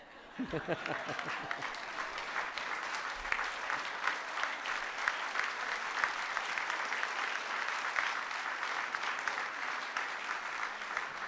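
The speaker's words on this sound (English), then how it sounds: "One more round of applause for Gino and Irene." Applause for award recipients Gino and Irene fills the room at a community awards breakfast. A brief voice opens, then a large crowd claps steadily, with scattered louder claps throughout.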